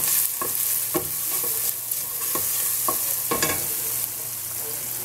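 Green beans and peas frying in a spiced pan and being stirred, with a steady sizzle broken by repeated scraping and clattering strokes of the utensil at a close, even level.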